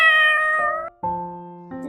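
A domestic cat meows twice in close succession, loud and near, with a short drawn-out first call and a lower second one, alone without any talk.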